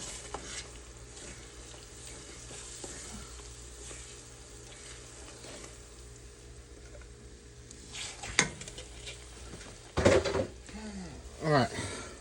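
Mixed vegetables frying and being stirred into a thick, dark gumbo roux for Southern-style gumbo, with a steady low sizzle, occasional spoon scrapes and clatters, and a few louder knocks near the end, no talk.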